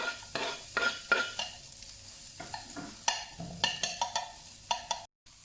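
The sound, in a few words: pine nuts and red onions frying in a pan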